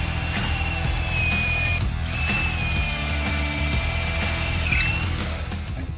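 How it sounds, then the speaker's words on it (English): A power drill whines steadily and loudly throughout, its motor pitch shifting slightly as it bores into pallet wood, with a brief dip partway. "This is an adjustable piece here that I'm drilling into based on the thickness of the wood"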